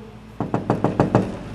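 Knuckles rapping on a bathroom door, six firm knocks in a quick even rhythm, loud and close with no speech.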